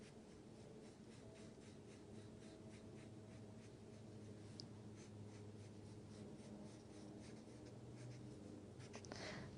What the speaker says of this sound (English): Now we'll sketch this and make a smooth curve.